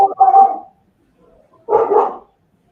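An excitable puppy gives two short bursts of barking, the first right at the start and the second after a pause of about a second, both close and moderately loud.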